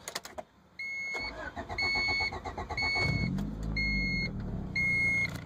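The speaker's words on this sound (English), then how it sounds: "Takes a little bit to crank over, but once it gets going, it doesn't sound too bad." A rough, high-mileage 1993 Honda Accord LX with a 2.2-liter inline-four and 4-speed automatic cranks briefly then fires and settles into a steady idle, close by, with warning chimes beeping repeatedly throughout.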